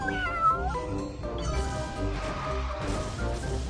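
A cartoonish cat meows in the Speed Drifters mobile racing game, a bright rising-and-falling mew right at the start, followed by a loud crash-like thump over busy game music and engine sounds.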